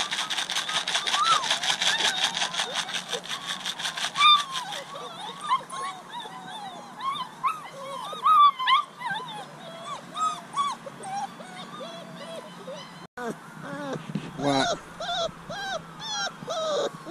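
A litter of puppies whimpers and yips, high wavering cries overlapping at first and then thinning into separate whines and squeaks, close and fairly loud, with a few soft thumps and no clear speech.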